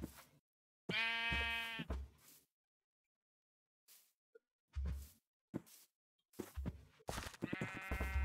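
Minecraft sheep bleats in short harmonic bursts, a loud one early and another near the end, with scattered brief game sounds between stretches of silence.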